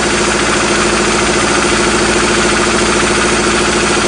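An engine idles steadily and loudly, a constant rumbling drone with a slight rhythmic knock, unchanging throughout with no voices.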